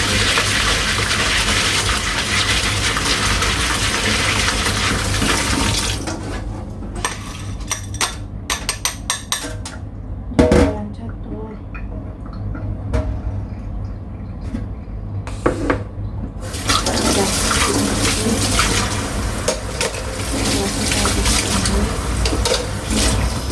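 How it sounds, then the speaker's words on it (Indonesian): Water runs hard and steadily from a tap while ingredients are rinsed in a strainer, with a quieter stretch in the middle broken by sharp clinks and knocks before the full rush returns. "Nah ini aku ambil saringan dicuci."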